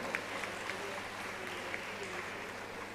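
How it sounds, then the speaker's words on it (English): Audience applause at a college alumni meet fills a hall, a steady, distant wash of many hands clapping, fairly faint and continuous. "big round of applause."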